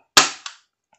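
One shot from a spring-powered Tokyo Marui USP airsoft pistol loaded with 0.20 gram BBs: a loud, crisp snap up close, a fading metallic ring, and a quick second click shortly after.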